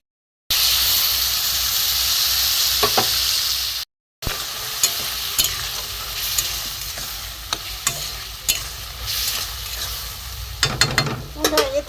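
A thick poppy seed paste goes into a pan of ridge gourd and potatoes, where it sizzles loudly and steadily in hot oil. A brief break is followed by renewed frying with scattered scraping stirs and clinks.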